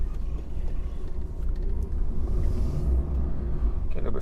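A DAF XF 480 HGV truck's engine rumbling steadily from inside the cab while driving, a deep continuous low drone with no talking.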